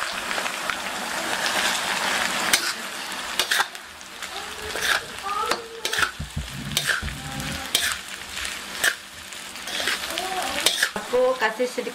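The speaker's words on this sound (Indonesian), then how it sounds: "Yuk kita langsung tumis." Kaffir lime leaves with orange bird's-eye chilies and large green chilies stir-frying in a pan, a steady hiss of oil broken by scraping stirs, while someone talks over the cooking.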